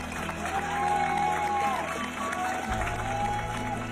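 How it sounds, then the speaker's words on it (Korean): At a school in Ohio, students gathered in a hallway clap and cheer steadily throughout, with voices mixed into the applause. "박수를 받네요."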